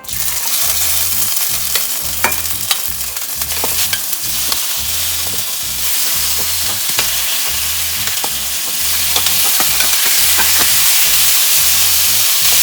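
Chicken wings brown in olive oil in a frying pan, a loud continuous sizzle and hiss with steady crackling pops and occasional stirring scrapes, with no voices.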